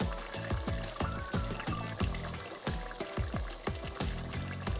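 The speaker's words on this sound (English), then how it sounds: "top up with some hot water, cover and let cook for another 15 to 30 minutes" Hot water pouring into a pot of Hungarian beef goulash with potatoes, a steady close trickle and splash with repeated gurgling surges as the liquid fills the pot, with no talking.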